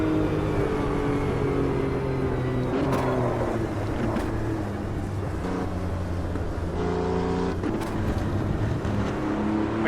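A Porsche race car in Automobilista 2 roars loud and close, its engine note holding steady and then dipping and climbing again through shifts, with a constant buzzing drone throughout.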